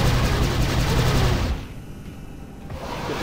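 Weapon fire while shooting enemies in the game Prey, Spirit World level: a loud, dense barrage of shots for about a second and a half, then dropping to a quieter rumbling background.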